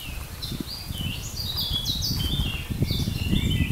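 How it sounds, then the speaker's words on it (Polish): Birds singing in a beech forest, several bright warbling phrases overlapping fairly near, over steady low rumbling background noise. "Ptaki pięknie śpiewają."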